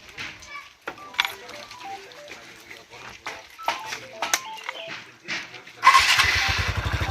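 Voices and light background noise, then a motorcycle engine suddenly starts and runs with a loud, steady putter near the end.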